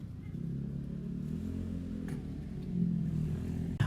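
A modified Honda Vario motorcycle with a large custom exhaust revs nearby, a throaty low burble that climbs briefly near the end, with faint clatter and a sharp knock at the close.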